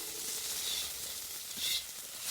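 Onions fry with ginger garlic paste for chicken curry, a soft, steady sizzle and hiss with a couple of brief swells, close but fairly quiet and with no talk.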